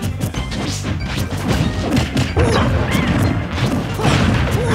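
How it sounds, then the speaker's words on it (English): Heavy hits and crashes from a Super Smash Bros. doubles match, with Diddy Kong down-smashing Cloud amid dense, loud game effects and crowd noise throughout. "Cloud gets down smashed by Diddy Kong."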